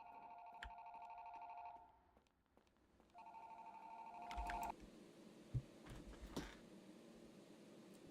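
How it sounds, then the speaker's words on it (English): A phone in the FNAF Rewritten: 87 video game rings in two electronic trilling bursts, followed by clicks and low background hum as the call is picked up. "I guess I'll answer the phone call."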